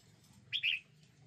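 A caged pet bird lets out a brief, faint double chirp, two quick high notes over quiet background hum.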